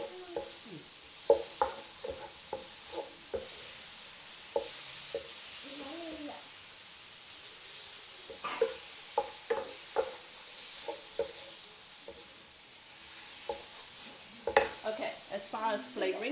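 Prawns frying in a pan for sambal prawns, a quiet steady sizzle broken by repeated sharp clacks and scrapes of a utensil stirring, close up and without talk.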